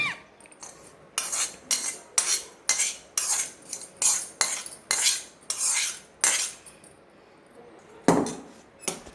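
A spoon scrapes and clinks rhythmically against a bowl while hot tempering is mixed into ridge gourd yogurt chutney, roughly a dozen sharp strokes in a steady beat, close and clear, fading before one last knock.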